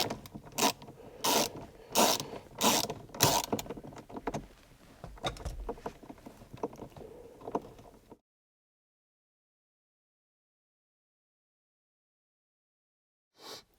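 A ratchet loosens 10mm bolts under the dash of a Lexus IS300 SportCross, giving close, rapid bursts of clicking strokes for about eight seconds. Silence follows, then one short final click.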